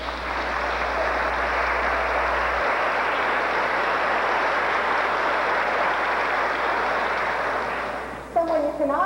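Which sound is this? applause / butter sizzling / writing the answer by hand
applause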